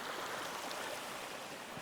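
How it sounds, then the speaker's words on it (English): Small feeder stream flowing across a hiking trail toward Chiquito Falls, a faint steady trickle and wash of water heard alone, even and continuous throughout. "Little feeder streams that are feeding in"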